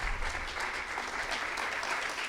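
An audience at a Red Natura 2000 conference forum claps steadily, a dense, even wash of applause that continues alone for a couple of seconds.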